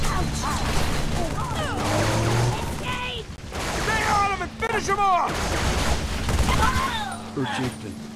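Sustained firefight in Halo 3 from the Master Chief Collection, with dense overlapping shots and rattling volleys running continuously alongside music and battlefield noise, plus voices shouting amid the combat.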